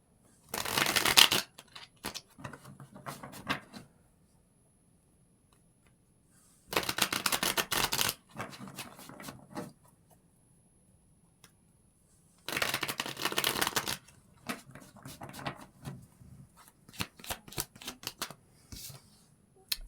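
Tarot cards shuffled in three sharp, crisp riffling bursts, with quieter handling and card-flicking sounds between them, close up and without talk.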